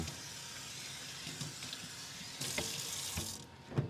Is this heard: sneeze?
no